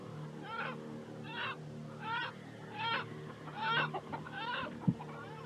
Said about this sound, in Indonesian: Nyai Alas, tunjukkan kedua ayam jantan hitam itu